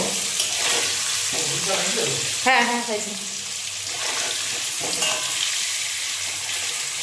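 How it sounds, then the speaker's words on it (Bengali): Potato pieces fry in a hot pan, giving a steady broadband sizzle throughout while people talk over it in a home kitchen. "এটা ভাজা হোক"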